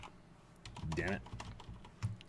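Fingers type a password on a computer keyboard: a quick, uneven run of soft close key clicks, quiet overall, with brief speech in the middle.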